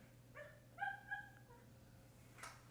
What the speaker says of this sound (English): Is the dog just standing outside my door barking?